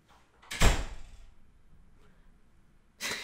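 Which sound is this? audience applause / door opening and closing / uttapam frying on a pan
door opening and closing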